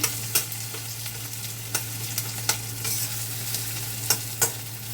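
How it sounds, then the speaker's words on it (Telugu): Ginger garlic paste frying with onions and curry leaves in a pan for a ridge gourd and chana dal curry, a steady low sizzle broken by sharp scrapes and taps of stirring, close up, with a constant hum underneath. "అల్లం వెల్లుల్లి పేస్ట్ బాగా వేగాలి."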